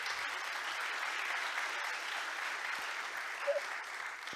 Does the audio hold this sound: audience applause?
yes